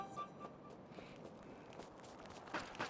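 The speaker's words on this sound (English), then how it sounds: "sounds like footsteps" Footsteps of a player character in the video game Factorio, a soft steady patter of steps running through the clip over a low game background, with a couple of sharper louder hits near the end.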